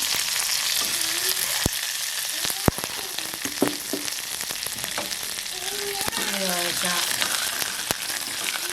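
Mustard seeds crackling in hot sesame oil, a loud continuous fry with sharp sporadic pops spread throughout, close and unbroken, with a faint voice audible at moments.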